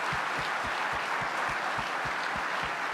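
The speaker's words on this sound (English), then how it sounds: "Let's give another round of applause." Continuous crowd applause at a lacrosse awards program, dense and even, with a faint low thumping pulse repeating about every quarter second beneath the clapping.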